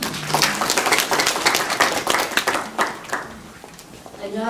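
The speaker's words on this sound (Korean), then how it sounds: "환영의 박수 부탁드립니다." An audience at a municipal public-servant study-group competition applauds in welcome, with dense, steady clapping that fades toward the end as a voice begins speaking.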